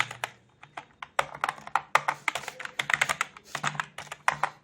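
A computer keyboard is typed on in uneven clusters of quick, crisp keystrokes, close and fairly loud, with brief gaps between runs, over a faint low hum and no speech.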